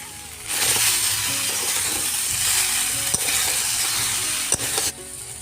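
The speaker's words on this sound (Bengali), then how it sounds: "এইভাবে বারবার নাড়াচাড়া করে ভেজে নিচ্ছি" Potatoes and pointed gourd fry in oil in a pan while being stirred repeatedly, a loud steady sizzle broken by a few sharp clinks of the spatula against the metal.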